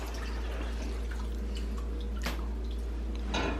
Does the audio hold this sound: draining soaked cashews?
yes